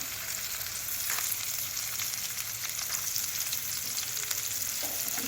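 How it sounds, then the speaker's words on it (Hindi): Onions sauté in hot oil in a pan, giving a close, steady sizzle and crackle with occasional stirring scrapes and no voices. "प्याज ऐड कर देंगे। इसको सौटे करेंगे अच्छी तरह से।"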